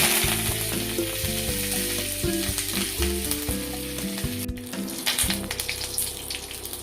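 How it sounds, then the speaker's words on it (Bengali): Curry leaves dropped into hot oil for tempering while making Chicken 65, giving a loud, close, continuous sizzle and crackle with some stirring noise and no talk. "ফোড়নে কারি পাতা দিয়ে দিচ্ছি।"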